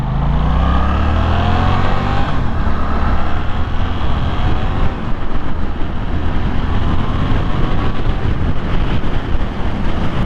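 A Suzuki GSX-8S naked sportbike pulls away on takeoff, its engine note rising steadily and loud, with heavy wind rush over the microphone throughout and no talking.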